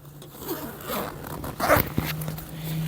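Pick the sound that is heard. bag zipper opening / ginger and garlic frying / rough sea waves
bag zipper opening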